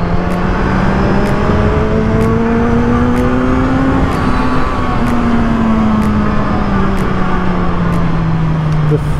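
Engine of a 2020 Kawasaki Z1000 motorcycle on a twisty mountain road, a loud continuous drone that slowly rises and falls in pitch, with heavy wind rush throughout.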